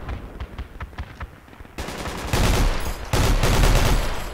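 Gunfire aimed at warehouse buildings in the video game Project Reality: scattered distant shots first, then dense, loud automatic bursts and heavy rapid fire that continue to the end.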